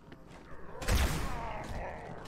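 Gunfire in Halo 2: a burst of loud blasts and a booming impact around one second, trailing into a rumbling wash of battle noise.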